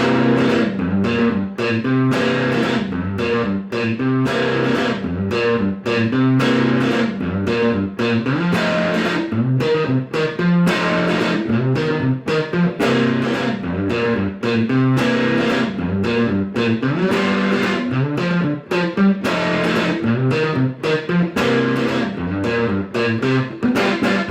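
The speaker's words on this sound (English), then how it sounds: "it's kind of a seventh chord alternated with kind of a bass line guitar part" An electric guitar plays a funky blues rhythm in C, choppy seventh-chord stabs alternating with a bass-line riff, steady and loud throughout.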